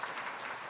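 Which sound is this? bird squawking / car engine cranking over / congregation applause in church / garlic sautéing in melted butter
congregation applause in church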